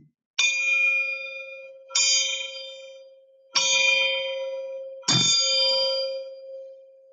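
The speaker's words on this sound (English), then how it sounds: "So now you've heard the one and only dinner chime from Camp 8." An iron piece, beat up from use, strikes a hanging rail as the dinner chime at an old logging camp: four loud clanging strikes a second or so apart, each ringing out with a long sustained metallic tone.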